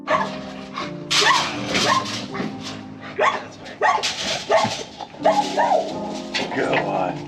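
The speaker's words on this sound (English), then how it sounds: "Vicious dog." A dog barks repeatedly in loud, sharp bursts, close by, with a few whimpering yips between barks.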